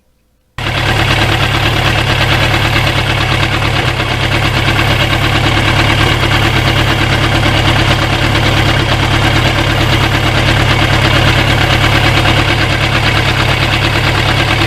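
A 1991 Yamaha FZR 1000 motorcycle engine starts abruptly and runs steadily with a loud, close, even droning hum and fine mechanical vibration throughout, no voices.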